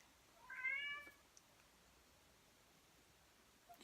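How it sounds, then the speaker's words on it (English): A pet cat meows once, a short faint cry from a distance, wanting to come inside, with quiet room hiss and a soft rustle afterward. "If you can hear my cat, she's trying to come in."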